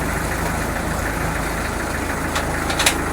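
A 2.5-litre naturally aspirated diesel car engine idles steadily while the car reverses, a close, continuous low rumble with a slight knock and a few faint clicks near the end, with no talking.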